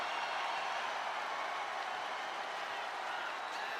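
Steady, dense crowd noise from a WWE 2K25 wrestling video game arena at Survivor Series War Games in Vancouver: a continuous wash of cheering and applause that holds loud and even, with no break, throughout.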